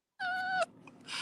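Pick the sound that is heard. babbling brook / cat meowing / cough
cat meowing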